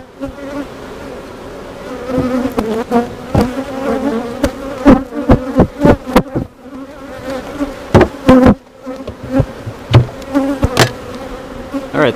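Honeybees buzzing at a backyard beehive, a dense, continuous droning hum close to the ear, broken by sharp individual bees zipping past and loud, irregular bursts throughout.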